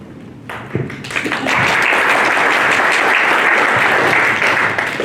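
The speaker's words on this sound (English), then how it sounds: "we'll hold off on the applause until like the break" An audience at a panel session bursts into loud, sustained applause, swelling after a few scattered early claps into a dense wash that fills the room.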